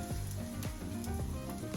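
Steady sizzling of batter-coated meat or fish frying in hot oil in a pan, a dense crackling hiss with occasional pops, close and continuous.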